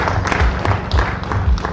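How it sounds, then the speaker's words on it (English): Audience at a secondary school annual general meeting claps for the school, a dense, steady patter of many hands close by that carries through the short stretch without any talk. "we can give them a clap"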